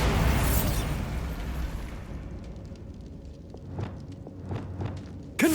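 A Bombarda spell goes off in Hogwarts Legacy, a loud broadband blast for the first two seconds that trails into rumbling debris and a few scattered sharp impacts.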